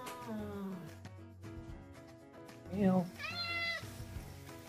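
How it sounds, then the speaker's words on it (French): A standard domestic cat meows several times, with rising and falling tonal calls, heard close under background speech. "Tout le monde sait à quoi ressemble le miaulement d'un chat standard."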